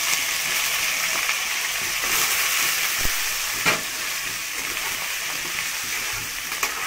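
Cubed fig (dumur) and potato fry in a home kitchen pan of hot oil seasoned with dried red chilli, bay leaf and whole cumin. A steady crackling hiss runs throughout, broken by a few sharp knocks from a spatula.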